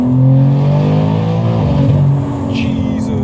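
A 1000HP all-wheel-drive BMW M3 pulls hard in third gear, its engine a loud, continuous rising drone heard from inside the car, close and dominant throughout.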